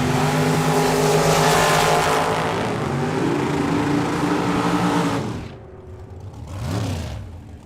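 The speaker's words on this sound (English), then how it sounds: "Ken Rader, small block car over on the right side. Big block here in the left." A small-block and a big-block drag racing car thunder side by side on the track, a loud sustained engine roar with rising harmonics that fades away, then a second engine swell follows.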